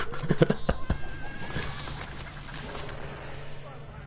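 Goat bleats and animal cries from the video game Plants vs. Zombies: Battle for Neighborville, a few short bursts early on over busy game sound effects and music.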